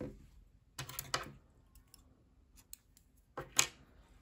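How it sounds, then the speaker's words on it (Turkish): Scissors snip through knitting yarn in a few quick, close cuts, a pair of bursts followed by a later sharp snip, with quiet pauses between. "İpliği kesiyorum."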